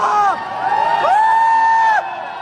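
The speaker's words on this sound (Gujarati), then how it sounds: "સુરત ના મિથુન માટે જોરદાર તાળી થઈ" A crowd in Varachha, Surat cheers for a local man called Mithun, with loud, close whoops and whistle-like rising cries over about two seconds before they break off.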